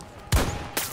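Two sharp, loud sniper rifle shots in Battlefield 2042, the first with a deep booming punch, the second about half a second later, each trailing into a brief echo.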